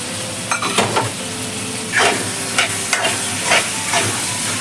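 Leftover oil goes into a pan of frying chana masala spices, giving a steady close sizzle broken by several scraping stirs at irregular intervals, with no talking.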